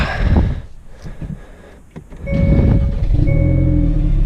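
Hyundai Veloster N with a newly installed SXTH Element intake is started after a few faint clicks and shuffles. The engine catches and settles into a loud, steady idle hum, close up.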